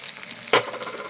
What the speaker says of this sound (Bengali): এবার দেখো আমি একে একে দিয়ে দিচ্ছি জিরে গুঁড়ো, আদা বাটা